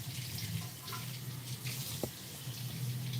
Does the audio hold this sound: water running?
yes